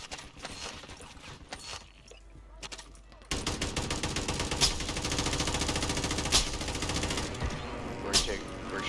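Call of Duty gunfire in a multiplayer match: a brief mixed exchange, a short lull, then a sustained rapid automatic burst with a few louder cracks. Players talk faintly underneath.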